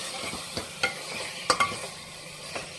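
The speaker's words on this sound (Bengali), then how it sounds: "এবার একটু ভালো করে কষিয়ে নেব।" Chicken with tomato and spices is sautéed in a pan, with a soft sizzle and several distinct spatula scrapes and stirring strokes at irregular intervals.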